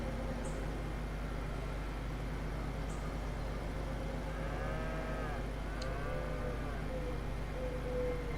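Cows mooing in Farming Simulator 25, a few drawn-out lowing calls in the middle over a steady low machinery hum, with no talking.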